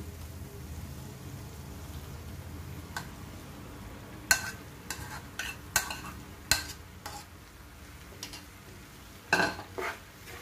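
Crushed soya chunks stirred into a tomato and spice masala in a pan, with a soft, continuous sizzle under a few clear scrapes and knocks of a spoon against the pan, close and fairly quiet.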